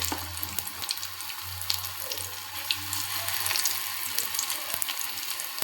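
Onion greens fritters (bajji) slipped into hot oil one at a time sizzle and crackle steadily, with scattered sharp pops over a constant hiss and no talking.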